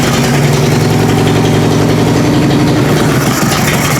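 A Harley-Davidson Electra Glide Evo V-twin idles with choke out, a loud, close, steady lumpy rumble throbbing evenly throughout.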